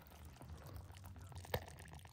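Boiling water poured into a dehydrated camp meal pouch of goulash or soup, a faint low gurgle and trickle at close range, with one brief sharper splash near the end and no talk.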